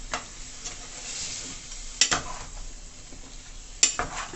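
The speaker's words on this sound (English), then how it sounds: "I'm going to be adding my carrot and my Irish potato and just mix it in" Carrot and Irish potato being stirred into Jamaican curry chicken, soft sizzling under scraping spoon sounds with two sharper clacks against the pot.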